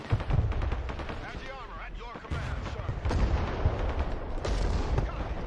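Battlefield gunfire and artillery in the Broken Arrow multiplayer war game, dense rumbling volleys and booming impacts rolling continuously, loud and close, with speech-like voices mixed into the din.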